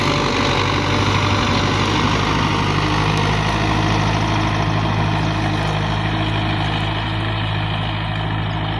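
The heavy engine of a Belarus MTZ 50 tractor pulling a five-tine chisel plough runs steadily throughout, a low constant rumble with a droning hum, loud and close, with no voices.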